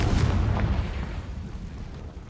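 A Confringo blasting spell explodes in the Hogwarts Legacy video game, a loud, close, rumbling blast that opens with a sharp pop and then rolls off into a fading low roar over about two seconds.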